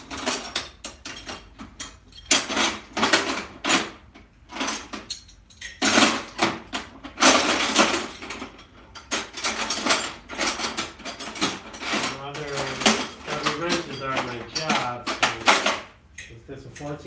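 Metal wrenches clink and rattle continuously while an engine is pulled from a 1976 truck, with dense ratcheting and tool-handling clatter close by and people talking over it.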